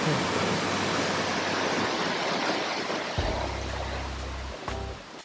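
Trafalgar Falls in Dominica, the 125-foot twin waterfall, roars as a steady, loud broadband rush of falling water, close and continuous, with a low rumble joining partway through.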